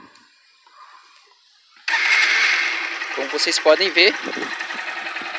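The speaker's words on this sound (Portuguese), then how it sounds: "Vou ligar para vocês, ver a motocicleta, o barulho dela." A new 2021 Honda CG 160 Start motorcycle engine starts abruptly and runs with a steady, high buzzing idle close by, while someone talks over it.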